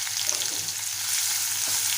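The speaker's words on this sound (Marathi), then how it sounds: "आणि छान परतून घेऊया." Green chilies and curry leaves sauté in a hot pan for a sprouted moong dish, giving a steady, close frying sizzle with faint stirring and no voices.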